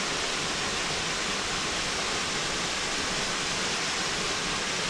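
A small waterfall called Little Falls pours in a steady, close, broadband rush of falling water with no pauses and no voices.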